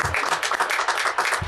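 Audience applause at a community tour event in Macon, a steady broadband wash of many hands clapping together, fairly loud and continuous throughout with no voices standing out.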